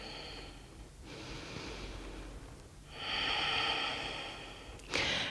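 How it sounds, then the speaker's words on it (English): Slow deep breaths during prenatal yoga, quiet breathy rushes at a close distance with a stronger exhale near the middle and a brief sharper intake at the end, with no talking. "2 more deep breaths here."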